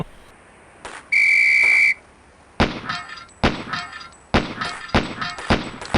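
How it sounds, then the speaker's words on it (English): A loud, steady whistle sounds for about a second to start a timed training drill in Police Quest: SWAT, followed by a rapid series of sharp gunshot-like cracks and metallic clangs. "On the whistle."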